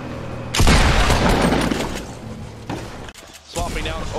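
A drum gun fires in the video game Fortnite, a loud sustained burst of rapid gunfire followed by shorter bursts, with brief gaps between volleys.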